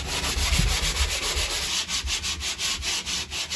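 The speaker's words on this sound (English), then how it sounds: "I'm gonna take a moment just to sand" Close, steady sanding by hand across a surface, a coarse rasping rub in quick, even back-and-forth strokes that keep a regular rhythm throughout.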